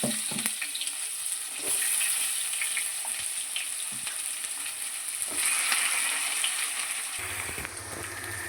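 Onion frying in oil with mustard, fenugreek and cumin seeds gives a loud, steady sizzle and crackle close by, broken by a few soft clicks of stirring.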